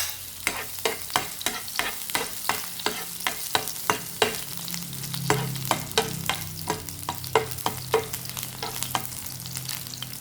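Garlic frying in a pan for ginisang corned beef with beans, with a steady sizzle under quick, regular scrapes and taps of a stirring utensil, close and fairly loud with no talking.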